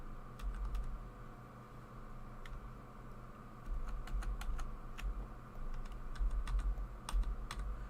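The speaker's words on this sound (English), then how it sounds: "keyboard's not typing in anywhere" Fingers type on a computer keyboard with reactive lighting, a quiet, uneven run of close key clicks over a low background hum, with no voices.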